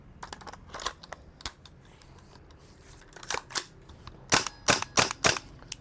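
A WE gas blowback airsoft rifle test fired, sharp snapping shots: a few scattered single pops early, then a quick cluster of four loud cracks near the end over faint background noise.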